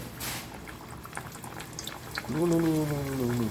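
Pooris fry in hot oil with a steady bubbling sizzle, and a voice starts speaking over it near the end.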